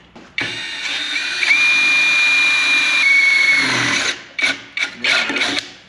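A Caterpillar DX13 graphene cordless drill bores two holes, whining steadily for a few seconds and then revving in short, choppy bursts close by.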